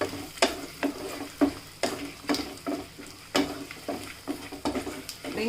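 Onions and three dried red chillies fry and sizzle in a pan while a spoon stirs them in regular scraping strokes, each stroke a sharp scrape over a steady sizzle, with no talking.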